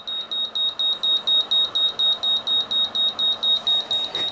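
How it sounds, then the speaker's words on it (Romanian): A shrill electronic alarm from a speaker protection and fan controller beeps in a rapid, regular pulse, about three beeps per second, loud and steady over a faint background hum of a cooling fan. "Și deja alarma sună și ventilatorul a pornit să se învârtă mai tare."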